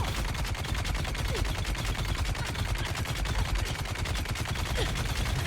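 Sustained automatic gunfire from the video game Dune: Awakening, a loud, dense rapid rattle of shots that continues without pause throughout.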